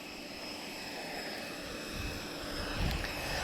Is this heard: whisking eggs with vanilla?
no